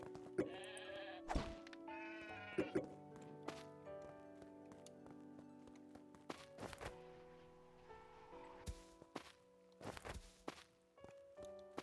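Sheep in Craftopia bleat several times in short, wavering calls amid game footsteps and thunks, fairly close and clear against quiet background.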